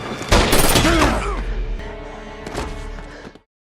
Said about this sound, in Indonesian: Hingga akhirnya dia dan Raymond saling menembak.